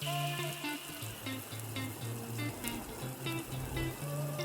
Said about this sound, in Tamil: இப்போ நம்ம எடுத்து வச்ச கட் பண்ணி வச்ச தக்காளி, பச்சை மிளகாய் இது எல்லாத்தையும் போட்டு மிக்ஸ் பண்ணி விட்டுருவோம்.